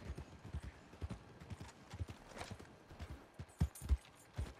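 Horse hooves clip-clop in a quick, steady trotting rhythm, fairly faint, with a couple of heavier thuds near the end, in the video game Red Dead Redemption 2.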